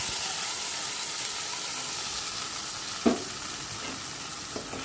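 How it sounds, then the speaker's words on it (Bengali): Spice paste hits hot oil already crackling with cumin seeds and bay leaves in a pan, a steady loud sizzle with a sharper spitting burst as it lands, during preparation of a rohu (katla) fish curry. "আর তারপর দেখো এখানে আমার পেস্ট করে রাখা মশলাটাকে এখন আমি ঢেলে দিচ্ছি।"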